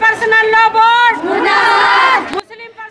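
A crowd of Muslim women chants slogans together at a panchayat gathering, loud and close, with sustained voiced shouts rising and falling over about three seconds before cutting off.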